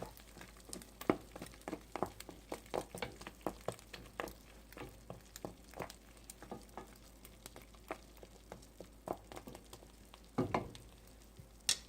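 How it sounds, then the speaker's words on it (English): Chicharrones in red sauce sit over a low flame, giving a soft, steady sizzle dotted with irregular small pops and crackles, with occasional clinks of stirring and no talk. "You're going to cover it and let it simmer."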